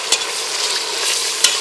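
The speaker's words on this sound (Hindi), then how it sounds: "इसे 2 मिनट हम फ्राई कर लेंगे अच्छे से।" Mutton with its fat frying in a pan for nihari, giving a steady, loud, close sizzle with two brief scraping stirs, no voices.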